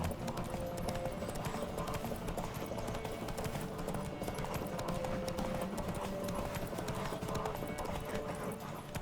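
A horse gallops in The Witcher 3: Wild Hunt video game with rapid, continuous hoofbeats, loud and close, forming a dense rhythmic clatter with no pauses.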